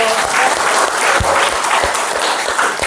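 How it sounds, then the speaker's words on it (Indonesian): Classroom applause as a teacher's group is rewarded for its presentation: a dense, steady patter of many hands clapping throughout, fairly loud and close, with no talk over it. "Berikan aplaus dulu."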